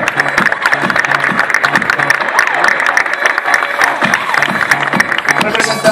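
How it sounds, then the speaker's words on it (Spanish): Loud, sustained applause from a crowd at a Miss World Ecuador press presentation, continuous dense clapping over a constant murmur of voices. "Aplausos, por favor."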